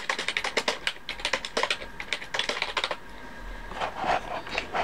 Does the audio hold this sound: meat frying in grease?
no